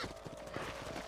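Horse hooves clip-clopping in the video game Red Dead Redemption, a quick steady rhythm of soft thuds, close but fairly quiet, with no voices.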